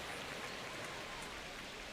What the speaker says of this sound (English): And it's raining right now.